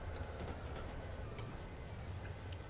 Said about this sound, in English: Let's go ahead and put our train into a braking mode here for a safety stop